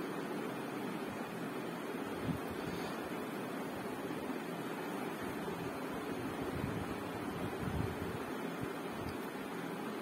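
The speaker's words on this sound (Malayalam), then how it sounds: "ഇനി അതിലേക്ക് നമ്മൾ നേരത്തെ കട്ട് ചെയ്ത് വെച്ച് സവാള വഴക്കാൻ വേണ്ടിയിട്ട് ഇട്ട് കൊടുക്കാം." Chopped onions fry in oil in a pan with a steady, dense hiss and a low rumble running continuously and fairly softly.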